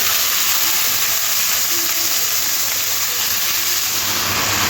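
Steady, loud sizzling hiss of banana stem frying in hot oil after black mustard seeds have been tempered, for a Bengali prawn and banana stem chechki. The sizzle is close and constant, with no talking.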